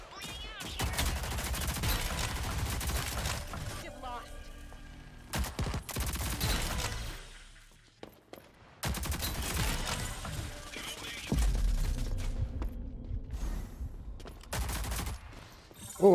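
Rapid bursts of video game gunfire crackle in dense volleys with mechanical clicks, broken by short pauses and near-silent gaps, and a voice talks briefly among the shots.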